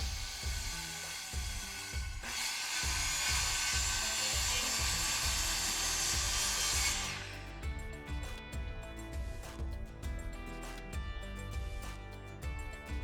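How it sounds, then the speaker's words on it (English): A power saw cuts wood, guided along a clamped straight edge: a loud, steady whine for several seconds that then stops, leaving softer mechanical rattling and faint music-like background tones. "to guide the saw along the edge and make your next cut."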